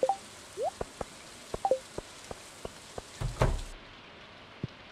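Rain in the video game Stardew Valley falls as sparse, separate drip and plop sounds, with a few short chime-like game effects, a brief louder burst near the middle, then a quieter tail.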